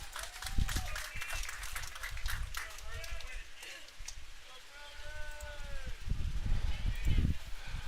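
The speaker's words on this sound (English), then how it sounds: "Round of applause, please." Scattered applause rises from a small crowd at a summer baseball game, thin and distant, under ongoing talk from the announcers.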